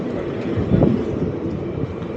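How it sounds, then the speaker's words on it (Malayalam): A steady, low rumbling roar of the Narol Express passing at Neyyattinkara Railway Station, continuous and fairly loud with a broad wash of noise and no voices. "നാരോൽ എക്സ്പ്രസ് ആണ് ഇതാ പോകുന്നത്."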